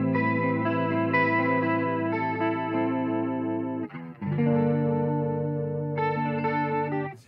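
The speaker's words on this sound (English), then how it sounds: "I like the slow sounds on the rotary." Electric guitar played through a Danelectro Billionaire Big Spender rotary speaker pedal on its slow setting, sustained chords with a gentle swirling, phaser-like wobble, loud and close, with a brief dip partway through.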